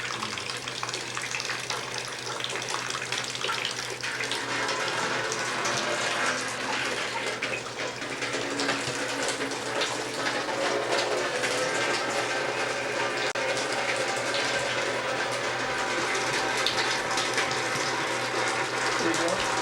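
Water gushes and splashes steadily as it fills up fast during a roof deluge, a dense, continuous rush that holds at one level throughout.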